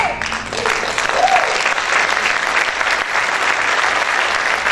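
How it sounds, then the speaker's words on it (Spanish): A church congregation applauds in worship, steady, dense clapping from a crowd filling the room, with a voice briefly rising over it near the start. "Ese aplauso es para el Señor Jesucristo"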